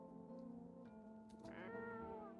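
A cat in a video game gives a drawn-out, rising meow near the end, close and clear over a low steady hum, with no talk.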